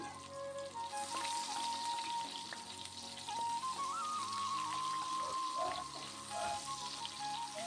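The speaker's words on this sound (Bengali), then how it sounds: "ওই তেলেতেই পেঁয়াজগুলো আমি দিয়ে দিলাম" Onions sizzle steadily in hot oil, a continuous close crackle and hiss with occasional faint clinks of a utensil, no talking.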